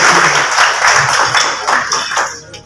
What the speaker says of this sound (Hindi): जोर की ताली अपने लिए होनी चाहिए आपको